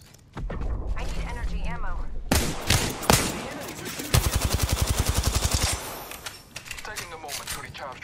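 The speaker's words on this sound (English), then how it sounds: "The enemies are shooting at me." Gunfire in the video game Apex Legends rings out as loud, rapid automatic bursts with clattering mechanical reload sounds, while a voice talks over parts of the action.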